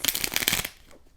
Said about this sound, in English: So I'm going to jump in and pull some cards.